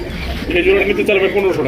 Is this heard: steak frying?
no